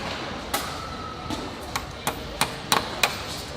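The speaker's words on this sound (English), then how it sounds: "Now Patrick is nailing on the first light" Hammer blows nailing a light fixture into place at an electrical apprentice competition, a handful of sharp irregular taps spaced about half a second apart over a steady background hum of the busy hall.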